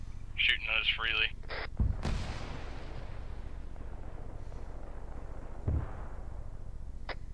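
Grenade launcher fire from a GP-25 in an Arma military game, with a couple of loud booming shots and a later distant thump over low rumble, after brief voice chatter at the start.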